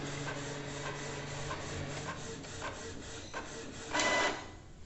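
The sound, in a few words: Canon Pixma MG3070s printer printing a colour page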